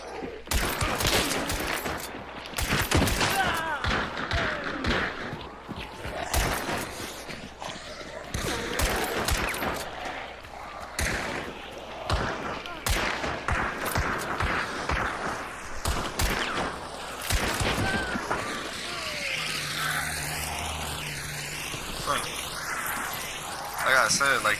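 Gunfire in the video game Hunt: Showdown, with many sharp shots in irregular bursts and clusters, some near and loud and others more distant, under occasional talk.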